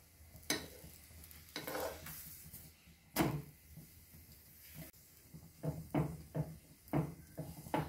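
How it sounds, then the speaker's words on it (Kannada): A stuffed hoorana chapati sizzles softly on a hot pan after being flipped, with ghee or oil, and quiet scrapes and taps of a spatula come in irregular bursts over the low frying hiss. "ಒಂದು ಸೈಡ್ ಸ್ವಲ್ಪ ಹೊತ್ತು ಕಾಯಿಸಿದ ನಂತರ ಇವಾಗ ಮಗುಚಿ ಹಾಕೋಣ"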